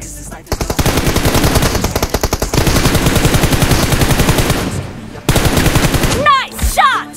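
Rapid automatic gunfire from a PUBG Mobile match, loud and close, runs in dense sustained bursts with a brief break before a final volley, and a voice speaks at the very end.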